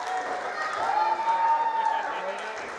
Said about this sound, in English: Listen to this crowd there in the corner.